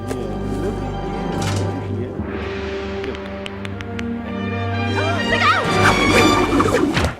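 A comedic sound effect of a thrown sandwich hitting someone, with a loud smash and crash amid busy layered effects and music, loud and close throughout.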